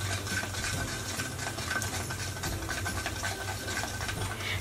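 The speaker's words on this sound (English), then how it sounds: "Give it a good mix." A vinegar and baking soda mixture is stirred briskly in a container for a kids' foam experiment, giving a continuous close scraping and clinking rattle for a few seconds, no voices.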